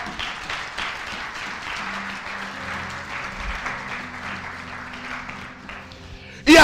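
A church congregation at a Sunday service applauds and cheers steadily for several seconds, a dense wash of clapping that swells suddenly at the end.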